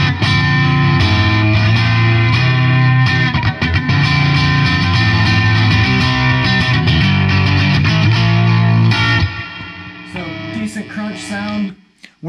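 Electric guitar played through a modeling amp with the gain pushed up, giving a thick crunchy distorted tone that rings steadily and loudly, then thins out and decays near the end.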